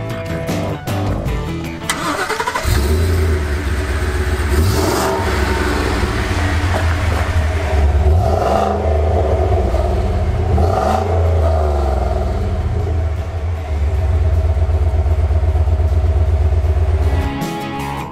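A 2020 Ford F-550 dump truck's 7.3-liter gas V8 work engine fires up after a brief lead-in, then idles loud and close with several revs swelling and falling before settling.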